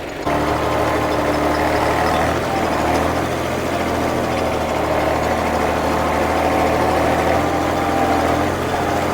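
A tractor engine runs steadily in a farm field on hardened ground, a continuous low droning rumble that holds even and fairly loud throughout, with no talk.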